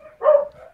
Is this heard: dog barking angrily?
yes